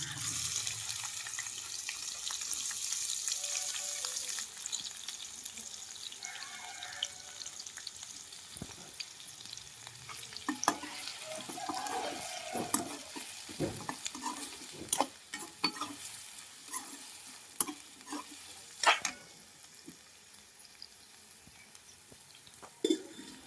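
Prawns sizzling in a pan with onions and green chillies, a steady close fry hiss broken by repeated scrapes and clacks of a stirring spoon, no voices.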